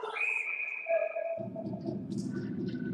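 A referee's whistle stops play in an under-18 ice hockey game, a shrill sustained tone lasting about a second, followed by low rumbling arena noise.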